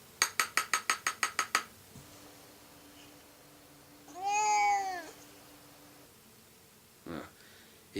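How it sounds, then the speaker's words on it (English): A black cat meows in a 1964 film: a single drawn-out, clear meow sits in the middle, after a quick burst of glassy clinking taps and a steady hum. "Unless they can get her cat down from the tree."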